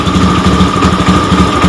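A Honda Beat FI scooter engine struggling to idle, running close with a fast, uneven sputtering pulse and a rough buzzing drone, loud and alone with no voices.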